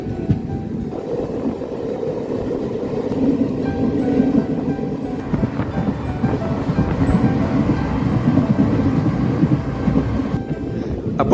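A train pulling into Muthalamada railway station in rainy weather, a continuous low rumble of wheels and carriages that builds slightly in loudness toward the middle and holds steady and close to the end.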